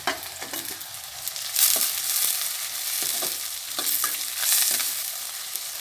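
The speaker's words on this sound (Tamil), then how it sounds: "பாருங்கள், வெங்காயம் நல்லா வதங்கிச்சு. 2 தக்காளியும் சேர்த்தேன்." Onions and tomatoes sautéing in a pan for katla fish curry, with soft sizzling and intermittent stirring scrapes coming in bursts, fairly close and moderate in volume with no talk.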